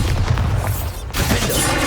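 A Bombarda blasting spell from the Hogwarts Legacy video game goes off in a series of heavy, booming explosive bursts, loud and close, with a sharp crack near the middle.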